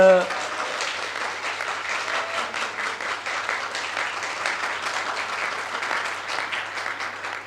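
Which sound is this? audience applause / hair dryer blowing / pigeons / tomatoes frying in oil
audience applause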